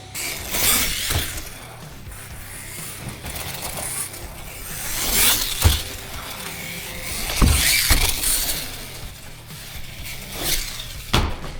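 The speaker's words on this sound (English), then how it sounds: "bomb the Megalodon around the track and do a couple stunts too" A Losi Megalodon RC monster truck drives on an indoor track, its motor whining over repeated clattering, rattling impacts and sharp bangs at close range.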